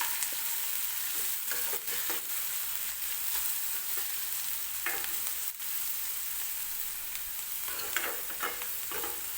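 Onion fries in oil for Marathi tur dal kanda, a constant close hiss of sizzling with occasional spatula scrapes and small clacks, and nobody speaking.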